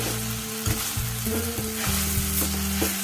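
Fresh coriander sautés with onion and tomato in a pan for carrot chutney. A loud, continuous frying sizzle runs throughout, broken by repeated stirring scrapes and knocks, with no voices.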